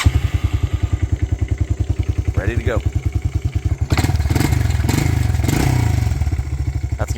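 A 1985 TriMoto 225DX three-wheeler engine, nearly cold, idles close by in a steady rapid chug, then revs up loudly into a rougher, fuller roar with clattering; someone speaks briefly over it.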